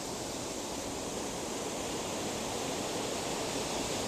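A rain-swollen stream at a caravan and motorhome club site in Kendal rushes loudly and steadily, a continuous broadband roar of fast water with no pauses or voices.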